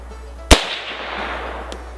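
A single loud, close rifle shot from an M1 Carbine in .30 caliber fired at a target, a sharp crack followed by a short fading echo and a faint second knock moments later.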